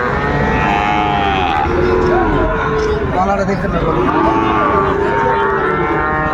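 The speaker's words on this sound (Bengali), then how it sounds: "আচ্ছা বিলাল ভাই এই যে সুন্দর সুন্দর গরু কালেকশন করছেন" Cattle moo loudly with long, drawn-out calls over a busy background of people talking nearby at a cattle market in Cumilla, Bangladesh.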